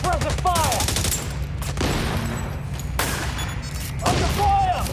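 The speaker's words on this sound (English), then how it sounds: "Laying down suppressive fire!" Sustained suppressive gunfire in the mobile shooter Tom Clancy's The Division Resurgence, rapid automatic bursts layered with booming shots, steady and loud, with brief shouted voices cutting in.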